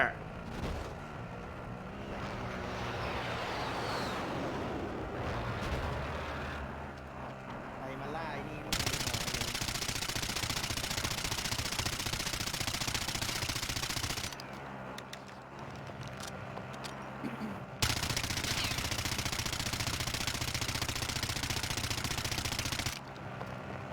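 Bursts of automatic gunfire and single shots in Call of Duty Warzone, loud and repeated in long rapid volleys with brief lulls, with people talking over parts of it.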